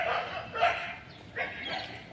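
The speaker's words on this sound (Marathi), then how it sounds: "बघा कुत्रे पण इथे येऊन बसतात" Dogs at an early-morning yoga class in a garden give a few short, close barks or yips in quick succession.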